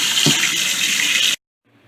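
Fresh water runs steadily into a pet tarantula's water dish for over a second, a close, even splashing stream that cuts off abruptly and leaves near silence.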